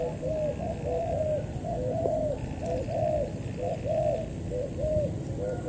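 A dove coos outdoors in a repeated rhythmic series of soft, throaty phrases, fairly close and clear over a constant background hiss.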